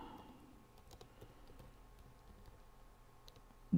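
Mouse clicks on buttons in a computer program come as a few faint, sharp ticks spread through a quiet room.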